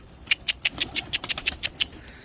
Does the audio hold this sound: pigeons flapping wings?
yes